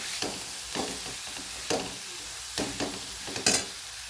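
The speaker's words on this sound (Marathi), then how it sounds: "हे बघा परतवून घेत घेते आम्ही पाच मिनटं" Grated sweet mango sautéed in a pan for a mango preserve, heard as soft, irregular scraping strokes of a spoon stirring through the sticky shreds over a faint low sizzle, close and with no talking.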